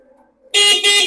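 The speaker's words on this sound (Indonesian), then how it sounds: "Ini klakson." An old motorcycle with Surabaya plates, taxed through 2009 and offered for sale in a village, sounds its horn in one loud, close blast that stutters briefly partway through, after a moment of quiet.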